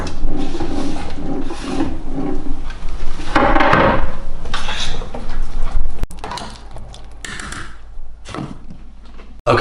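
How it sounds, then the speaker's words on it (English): Vegetables for a vegan spaghetti bolognese stirred in a cooking pot with wooden scraping and rubbing, then a lid set back on with a few clatters, close and fairly loud. "I'm going to put these vegetables into the pot, I'm going to give it a stir and lid back on."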